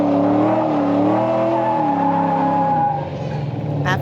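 A drift car spins donuts, its engine holding a steady, droning rev under a sustained tire squeal whose pitch wavers, then eases off near the end as the drone drops lower.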